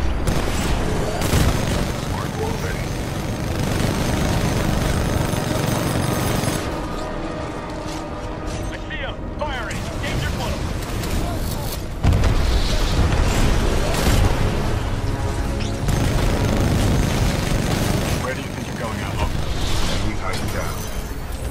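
A Titan's heavy weapon fires repeatedly in Titanfall 2, with dense, loud booming bursts and mechanical clatter that continue almost without pause amid battle noise and radio-style voices.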